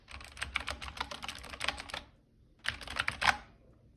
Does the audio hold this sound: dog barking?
no